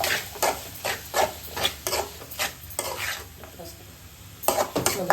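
Small chicken pieces fry with masala in a pan and are stirred repeatedly, with rhythmic scraping and clattering strokes over a steady sizzle, heard up close.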